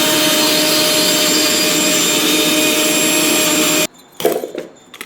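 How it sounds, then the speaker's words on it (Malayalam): A mixer grinder whirs loudly and steadily while grinding bilimbi fruit in a jar without added water, then cuts off abruptly, leaving a few brief clatters and knocks. "ഈ പുളിഞ്ചിക്കയെ ജാറിലിട്ട് വെള്ളമൊന്നും ചേർക്കാതെ നന്നായിട്ട് അരച്ചെടുക്കുക"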